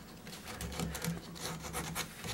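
Sandpaper rubbing over a bicycle frame being prepared for a finish coat, a steady close rasping scrape in repeated strokes with no talk.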